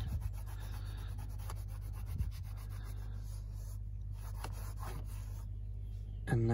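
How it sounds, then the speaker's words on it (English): A towel rubs steadily back and forth across the plastic dashboard of a Nissan Qashqai J11, a soft close scrubbing over a low steady hum. "I really had to rub it in to be sure that the plastic was saturated."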